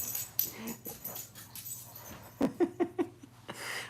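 A new puppy scampers around indoors, giving a short series of soft, quick whimpering yelps near the middle amid faint pattering, fairly quiet overall.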